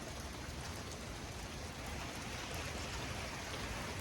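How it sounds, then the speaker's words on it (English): Steady light to moderate rain falling as a thunderstorm moves off, a dense, even hiss of drops on surfaces throughout, with no talking. "we've got some steady rain going on right now"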